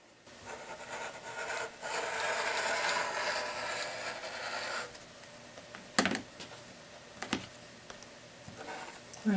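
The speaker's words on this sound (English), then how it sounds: "rotary cutter and cut off along the ruler" Rotary cutter slicing quilt fabric along a ruler: a steady, faint rolling scrape lasting a few seconds, followed by soft clicks and handling taps.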